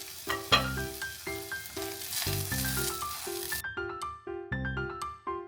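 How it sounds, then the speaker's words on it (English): A crispy chive pancake sizzles and fries in a pan, a hissing crackle running beneath plucked background music for a few seconds before the sizzle drops away and the music carries on. "Once the bottom is golden brown, flip it and cook the other side until it's perfectly crispy."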